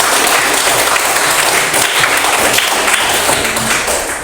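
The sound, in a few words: audience applause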